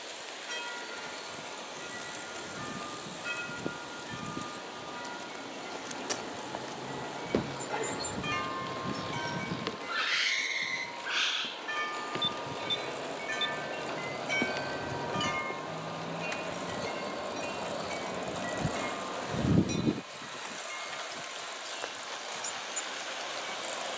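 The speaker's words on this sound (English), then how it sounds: "So the train is going to head home now." A heavyweight USA Trains model train runs on its layout, rolling quietly with faint, steady track rumble, a few soft clicks and a brief louder clank near the end.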